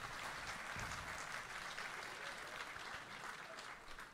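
Audience applause at a nature festival evening event, a dense sustained clapping from a large crowd filling the room, steady and moderately loud across the whole stretch before thinning slightly at the end.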